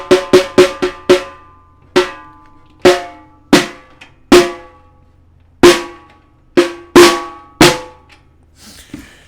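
Single drum with one tuning lug loosened, struck in a quick cluster of hits and then spaced strikes, each ringing and decaying with a bending, warbling pitch, close and alone.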